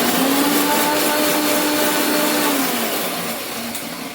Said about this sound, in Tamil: இப்போ தக்காளியும் மிளகாவையும் அரைச்சி